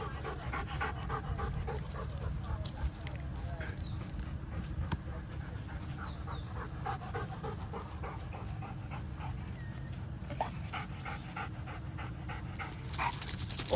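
Hunting dogs pant rapidly and steadily close by, with a soft whimper now and then over outdoor background noise and no clear speech.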